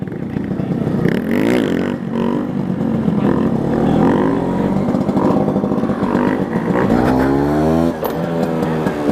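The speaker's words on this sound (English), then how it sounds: "Do a dank wheelie for this guy." Motorcycle engine revving hard for a wheelie on a ride along twisty roads, loud and continuous throughout with rising and falling pitch sweeps and constant wind rush.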